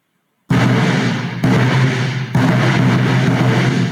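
A tightened snare drum is struck with sticks, three loud, crisp, sharp hits with rattling snare buzz sustaining between them, close and alone.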